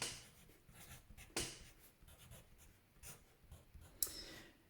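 Pen or pencil writing down a trigonometry ratio on paper during a maths lesson on finding an unknown angle, a quiet scratchy scribble with a few sharper taps of the tip, close and alone.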